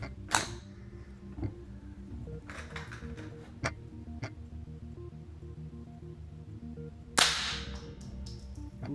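A suppressed Ruger 10/22 rifle fires .22 rounds in a garage: a handful of sharp, irregularly spaced cracks, two of them noticeably louder, with faint mechanical ticks between shots.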